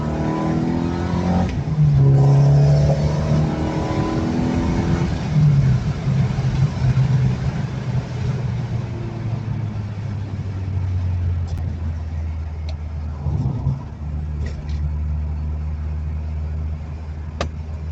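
A VW Mk1 fitted with a 1.9i engine and a new exhaust revs close by, the throaty note rising and falling in several pulls before settling toward idle, with no talk over it.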